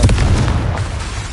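Confringo fire spell blasts in Hogwarts Legacy, a loud booming burst with a rumbling low-end tail that fills the whole moment, with no talk over it.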